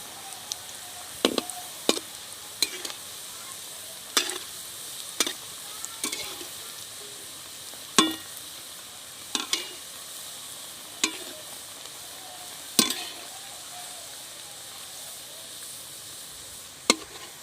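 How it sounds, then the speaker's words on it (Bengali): Lote fish chops fry in oil with a steady soft sizzle, broken by a dozen or so sharp clacks and scrapes of a utensil against the pan at irregular intervals, no talking. "এক পিঠ আমি ভালো করে ভেজে নিয়েছি এবার আর এক পিঠ আমি উল্টে দেবো"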